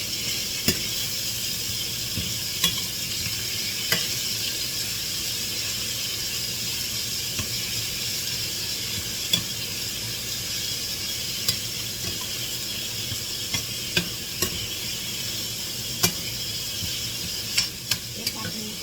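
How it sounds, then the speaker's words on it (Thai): Pork stir-frying in a pan for spring roll filling, with a continuous sizzle and scattered clinks of the utensil stirring throughout, no speech. "มาตัวนี่ผัดหมูเสร็จแล้วจ้า"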